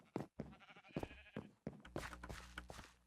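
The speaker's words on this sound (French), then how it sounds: "dans ma ferme, pour l'instant, j'ai seulement des moutons, puis des vaches" Several sheep bleats in the game Minecraft, loud and close, coming in quick succession with short gaps between them.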